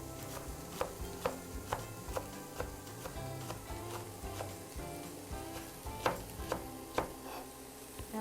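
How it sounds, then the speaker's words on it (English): Knife slicing fresh green onion on an angle, a steady series of crisp, evenly spaced chops on a board, fairly close and moderately quiet against a low background hum. "I'm using a knife to cut the green onion on an angle"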